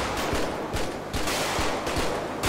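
Repeated gunfire bursts from a Grand Theft Auto game in a rural police-chase shootout, with rapid overlapping shots and machine-gun-like volleys filling the clip, loud and close.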